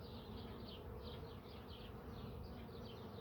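Honey bees buzzing steadily around an open hive, a dense, continuous close-up drone with shifting higher-pitched wingbeat tones weaving through it, no voices.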